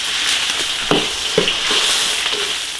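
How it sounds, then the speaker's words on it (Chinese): Star anise sizzles in hot lard in a large rural iron wok, a steady frying hiss broken by a few brief scraping stirs, close and loud with no talk. "大料下锅炒香，"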